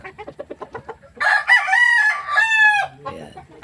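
A gamefowl rooster, a three-time winning bulik cock kept for breeding, crows loudly and close by in two drawn-out calls, preceded by a run of quick clucks.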